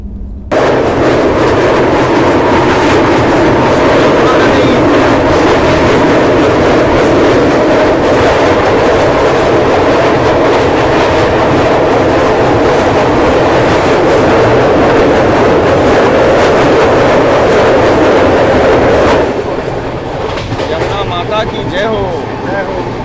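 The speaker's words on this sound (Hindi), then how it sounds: "पार करेंगे अभी बहुत तेज रफ्तार में कालपी रेलवे से" A fast 22122 Lucknow LTT AC express passenger train runs near Kalpi, giving a loud continuous rumble and wheel clatter heard from close by that stays steady before dropping off near the end.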